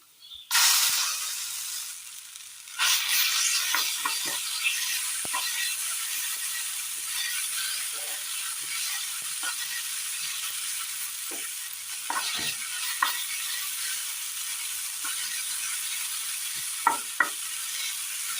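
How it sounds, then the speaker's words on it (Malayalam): Ground tomato hits a pan of fried dried red chillies with a sharp burst of sizzling, then settles into a steady loud hiss with occasional scrapes and clicks of stirring. "ഇനി ഇതിലേക്ക് നമ്മൾ അരച്ചെടുത്ത തക്കാളി ചേർത്ത് കൊടുക്കാം"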